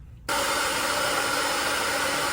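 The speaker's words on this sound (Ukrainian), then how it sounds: "Спочатку просушую коріння феном." A hair dryer switches on abruptly and blows a loud, steady whooshing roar while drying hair at the roots, continuing without a break after the start.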